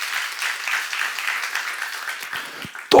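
Church audience applauding during a Revelation seminar: a steady, dense patter of many hands clapping fairly close, ending with a sharp loud thump at the very end.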